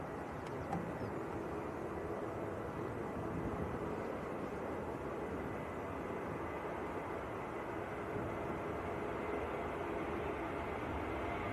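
A jet airliner departs from runway 05 left at Manchester Airport, heard as a steady, distant broadband roar with no distinct peaks and no voices.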